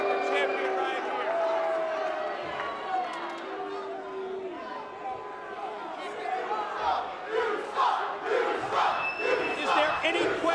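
A capacity wrestling crowd, standing room only at the Impact Zone, roars and chants throughout, loud and dense with surging shouts and cheers, while commentators talk over the noise.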